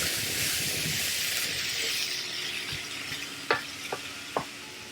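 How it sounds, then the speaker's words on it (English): Zucchini in tomato sauce cooking in a pan, a steady close sizzle and bubbling with stirring scrapes, then a few sharp utensil clicks against the pan near the end. "I love the sound of vegetables cooking."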